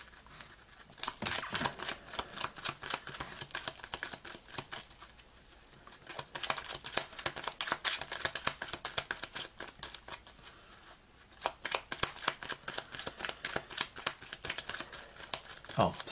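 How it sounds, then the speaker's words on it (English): Cardfight Vanguard cards are shuffled back into a deck: rapid, crisp clicking and riffling in several bursts with short pauses between them. The sound is close and fairly quiet. "I will shuffle my cards back into the deck."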